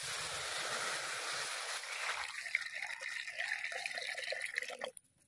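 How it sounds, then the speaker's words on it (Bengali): Water pours from a container into a kadai, a metal cooking pan, set to boil banana flower, a close, steady splashing stream that rises in pitch as the pan fills, then stops abruptly. "মোচা সেদ্ধ করার জন্য প্রথমে কড়ার মধ্যে দিয়ে দেবো জল"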